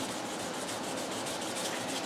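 Steady, continuous rasping of sandpaper on a cork block sanding guitar frets, an even back-and-forth scrub close up and alone.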